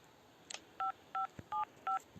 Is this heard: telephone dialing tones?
yes